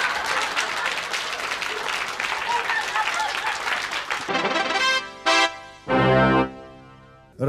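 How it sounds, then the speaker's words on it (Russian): A studio audience at a late-1990s Russian television show breaks into dense, sustained applause for about four seconds, then it cuts away to music and speech. "Аплодисмент."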